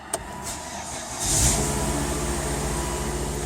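A car engine cranks and catches after an AW55-50SN transmission service, a few clicks followed by a rising start-up roar that settles into a steady close idle.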